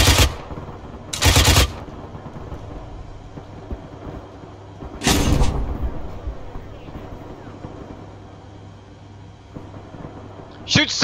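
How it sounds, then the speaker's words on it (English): A tank's main gun firing in a combat video game: three loud, separate booming blasts spread across the stretch, with quieter rumble between them. "Shoot the main gun right there."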